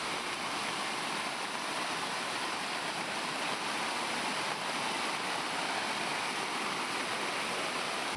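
Bhadra river floodwater rushes across submerged farm fields and plantations in flood-hit Chikkamagaluru, a steady broadband roar with no pauses, fairly distant and uninterrupted, with no voices.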